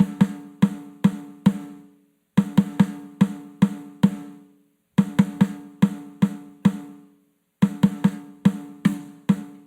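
A drum plays a Herta pattern, two quick strokes followed by slower evenly spaced hits, repeated in four clear, close groups separated by short pauses, resonant and alone.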